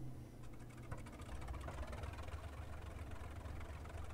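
Handley Page O/400 biplane engines in a flight simulator game, a steady low rumble that swells from a quieter start into a continuous drone, loud and close, with no voices.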